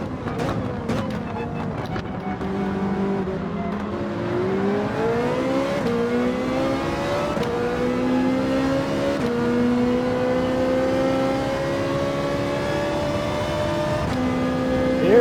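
High-revving race car engine in a racing video game, a Ferrari or Porsche Manufacturer's Cup car, climbing steadily in pitch through the gears, loud and continuous, with some commentary talk over it.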